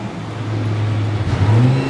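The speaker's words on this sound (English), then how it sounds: "There are a couple of Lamborghinis running up over there, so I'm having to raise my voice a bit here" Lamborghini sports car engines running steadily nearby during track testing at Oulton Park, a deep continuous rumble with the pitch rising slightly toward the end.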